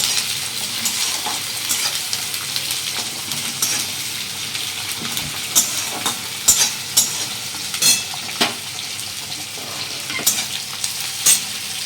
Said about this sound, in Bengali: পেঁয়াজটাকে ভালো করে লাল লাল করে একটু ভেজে নেব।